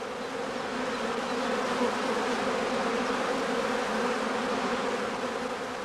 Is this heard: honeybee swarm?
yes